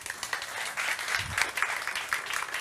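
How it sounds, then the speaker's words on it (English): Audience at a physics lecture in Belgrade applauds, a fairly quiet, steady patter of clapping from a seated crowd lasting a few seconds. "so let's applaud her."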